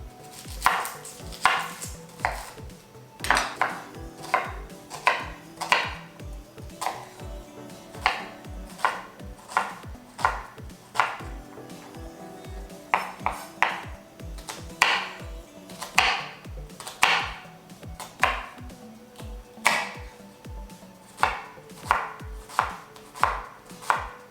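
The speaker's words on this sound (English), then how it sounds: "Okay, chop my onion" A knife chops an onion on a cutting board in sharp, distinct strikes, loud and close, coming in quick bursts with brief pauses between runs of cuts and no voices.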